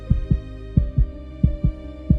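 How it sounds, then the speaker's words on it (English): The tiny heartbeat of a bird sitting still in its nest, a steady, rapid thumping in low, soft pulses, paired beats repeating evenly over a faint hum. "the tiny heartbeat of a bird sitting still in its nest"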